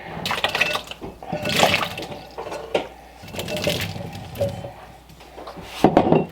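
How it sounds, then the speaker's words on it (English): Cold tap water runs from a kitchen sink into a bowl of salted water holding fresh berries, splashing and gurgling in uneven surges for several seconds, with a louder burst near the end. "I'll go ahead and just top this off with water from the sink"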